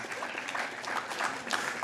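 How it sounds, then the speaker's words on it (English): An audience at a poetry reading claps steadily for a couple of seconds, a dense, moderately loud patter of many hands, with faint voices mixed in. "Yeah, applaud."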